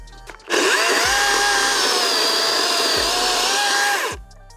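A DeWalt DCM575 54V FlexVolt cordless chainsaw cutting wood, a loud, close, sustained electric whine that holds steady for about four seconds and then winds down.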